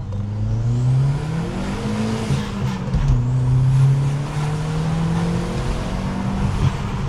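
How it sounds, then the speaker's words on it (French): A modified car's engine rises in a short acceleration, the tone climbing and then settling, loud and close with no talk. "je fais une petite accélération"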